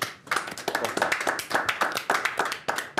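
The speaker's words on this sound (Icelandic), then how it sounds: "Gefum okkur gott klapp." A small group claps hands together in a quick, uneven burst of close clapping lasting a few seconds, with no talk over it.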